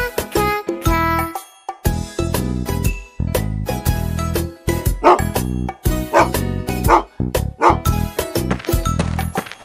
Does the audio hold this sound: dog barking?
yes